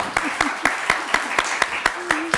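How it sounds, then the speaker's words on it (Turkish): Studio audience applause on a quiz show, about a dozen evenly spaced claps heard fairly close, with a voice briefly audible near the end. "O zaman bir alkış rica ediyorum kendisine"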